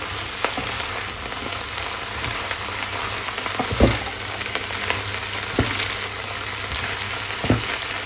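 Tender red amaranth greens fry in a hot pan, a steady dense sizzle up close with occasional louder pops and spatters, no one speaking.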